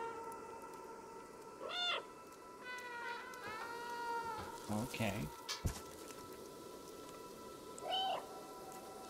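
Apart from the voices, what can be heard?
cat meowing in a video game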